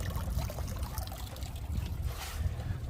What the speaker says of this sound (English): our starboard motor's got water coming through it and I haven't even pushed the button